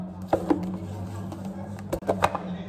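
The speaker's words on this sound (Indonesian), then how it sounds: "sembari menunggu kita potong-potong dulu bawang bombay" A knife chops onion on a board with a handful of soft, uneven taps spread over a couple of seconds, close by and fairly quiet over a low background hum.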